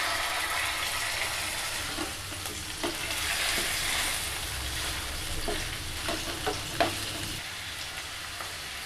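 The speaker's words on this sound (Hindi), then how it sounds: "अब हम पैन में 1 चम्मच ऑयल शामिल करके इसमें अपनी चिकन ऐड कर देते हैं" Chicken sizzling in a spoonful of oil in a pan, a continuous close frying crackle with scattered pops and some stirring scrapes, no talking.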